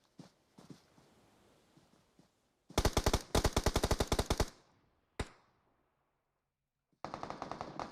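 MG3 machine gun fire in the PUBG Mobile battle royale game: two sharp, rapid automatic bursts with a lone shot between, loud and close against otherwise quiet surroundings.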